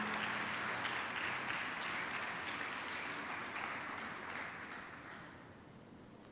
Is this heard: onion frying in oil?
no